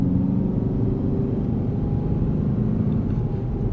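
Lexus GS F 10th Anniversary Limited with its stacked quad billet exhaust tips: a steady, loud low engine rumble and exhaust drone holding level throughout, with no talking over it.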